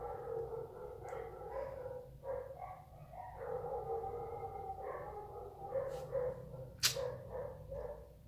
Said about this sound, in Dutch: Deze honden gaan echt als een malle tekeer.